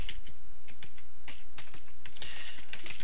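Computer keyboard typing in a steady run of quick, close key clicks, continuous and fairly loud with no speech.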